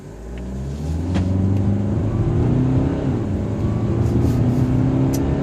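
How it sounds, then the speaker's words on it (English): A 2015 BMW X3 28d diesel SUV pulls away from a stop and revs up under load uphill, its low droning note climbing steadily in pitch as it accelerates, close and continuous. "acceleration from dead stop up the hill"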